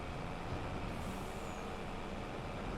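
Truck in the video game Farming Simulator 25 on the Riverbend Springs map, a steady broadband engine rumble with a hiss of air brakes, loud and continuous throughout with no talking.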